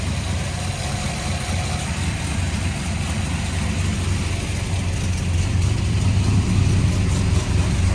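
A nitrous-fed Chevy S10 drag truck idles at about 1100 rpm, giving a steady, loud, rumbling low drone that builds slightly toward the end.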